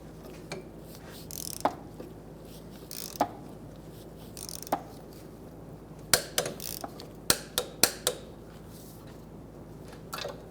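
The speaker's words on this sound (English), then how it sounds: "move straight down underneath this one to the backing plate nut and torque that down" A torque wrench tightens a backing plate nut on a 2003-2011 Honda Element, giving sharp ratcheting clicks, first spaced apart and then a quicker cluster near the end, close up.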